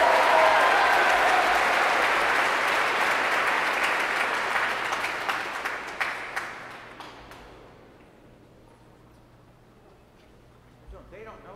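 Audience applause at a school commencement ceremony, loud sustained clapping from a large crowd that tapers off over the second half into a quieter room with a few scattered claps near the end.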